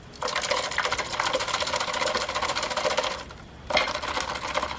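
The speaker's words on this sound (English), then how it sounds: "Just have to add water, right?" Water is poured into a container of old, dried-out used dye for dyeing gloves in an old crock pot, a steady close splashing stream that stops briefly and then resumes.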